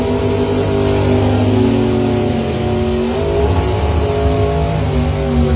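A Ford Mustang doorslammer drag car at a test-and-tune event roars hard down the strip, its engine a loud sustained drone with shifting harmonic pitch.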